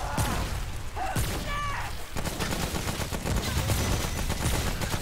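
Gunfire from a weak gun in Remnant: From the Ashes, a dense run of shots over busy game noise, loud and steady for several seconds with no talk.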